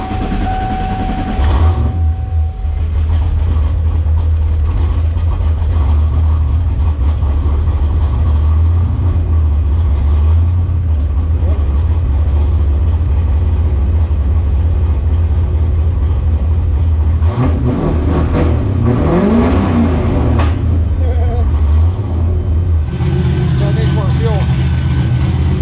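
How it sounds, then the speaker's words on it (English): A turbocharged 363 stroker Fox Body Mustang engine, fitted with a Holley Terminator X, rumbles with a heavy low drone throughout, with a couple of revving swells near the end, loud and close. "now we're ready to fire the car"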